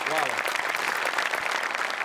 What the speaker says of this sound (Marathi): एकदा जोरदार टाळ्या त्यांच्यासाठी झाल्या पाहिजे